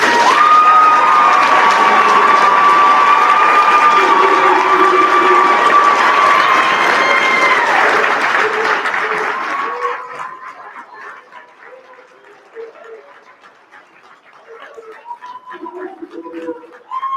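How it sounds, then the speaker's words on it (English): Loud applause and cheering from a ceremony audience for graduating AFRD fire recruits, dense and sustained for about ten seconds before fading into scattered voices and a few birds. "the hardest clap that you could ever give"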